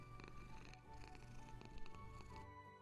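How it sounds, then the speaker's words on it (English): A cat purrs in the SCP: Secret Files video game, a soft low rumbling purr running steadily underneath faint layered background music and tones. "That cat's name is Mrs. Carter."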